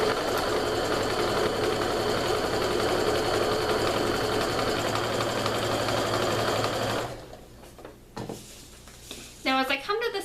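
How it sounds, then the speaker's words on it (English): A sewing machine stitching a pillowcase seam with French seams, a fast steady close whirring hum that stops partway, followed by brief handling noises and a short burst of stitching. "So I'm getting those stitches reinforced and then just sewing right on down."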